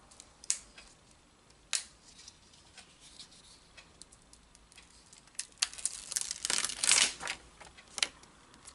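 A vinyl sticker is peeled off its backing sheet close up, with scattered small crinkles and ticks, then a louder stretch of crackly peeling and rustling near the end.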